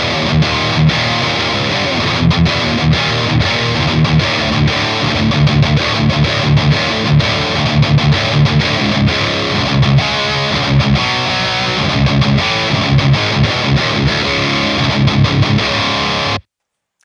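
Electric guitar played through a Revv G3 distortion pedal for a tight, focused metal tone, chugging palm-muted riffs with sharp stops, loud and continuous, ending abruptly in silence.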